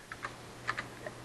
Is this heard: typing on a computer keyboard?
yes